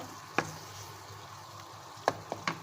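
Arvi and chicken frying in a pot, a faint steady sizzle broken by a few sharp knocks of a spoon against the pan, close by and quiet.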